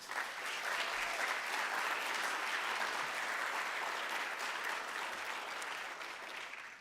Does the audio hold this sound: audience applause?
yes